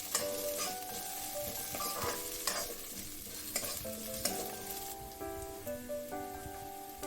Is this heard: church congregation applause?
no